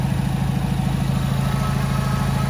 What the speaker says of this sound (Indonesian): Suara mesinnya adem banget, halus banget, nggak ada kemeladak-kemeladaknya